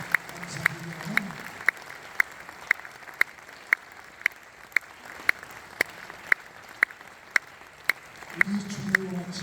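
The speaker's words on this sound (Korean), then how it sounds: "여러분 박수를 축하해 주시길 바랍니다" At a church general assembly officer inauguration ceremony, sharp claps ring out in a steady unison beat of about two per second, continuing through most of the stretch, with someone speaking briefly at the start and again near the end.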